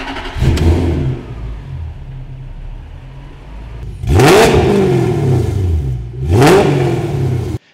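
A Toyota 86 fitted with a swapped 1UZFE V8 idles with a steady rumble, then is revved twice in sharp, loud bursts, the second about two seconds after the first, each rising and falling back to idle.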